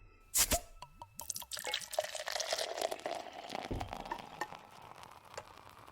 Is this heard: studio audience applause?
no